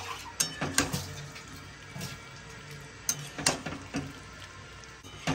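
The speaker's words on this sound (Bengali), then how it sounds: "এক এক করে পনিরগুলো এর মধ্যে দেব। আর এবারে নাড়াচাড়া করব।" Paneer pieces are stirred in a metal kadai, giving scattered clinks and scrapes of a spoon against the pan that come in short bursts, fairly quiet and close, with no one speaking.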